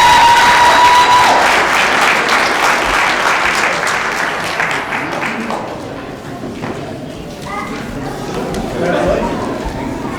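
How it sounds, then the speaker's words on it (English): A commencement audience claps for new graduates, loud sustained applause with some cheering and crowd chatter mixed in, tapering off midway before a brief swell near the end. "let's give those graduates a round of applause."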